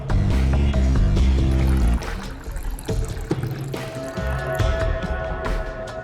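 Water pours into a container in a laboratory, a steady gurgling stream that stops partway, followed by small splashes and clinks close by.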